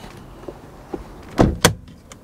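The bonnet of a Vauxhall Antara is opened with two sharp, close clunks in quick succession, following a few faint knocks in a quiet setting.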